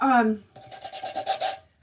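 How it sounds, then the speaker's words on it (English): A short voiced sound gives way to quick, rhythmic rubbing strokes, like sandpaper worked back and forth by hand over a surface, close and moderately loud. "I'm just sanding it a little bit"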